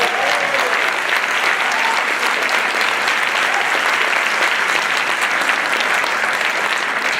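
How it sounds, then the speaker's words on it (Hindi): A Boston audience claps for Amitabh Bachchan in a loud, sustained burst of applause from a large crowd, steady and unbroken from start to finish, with no talking. "एक बार दिल से ताली।"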